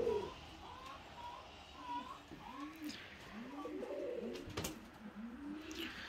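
Laughing doves in a large aviary give repeated soft, rolling coos, several overlapping calls at close range, with faint chirps and a brief knock in the background.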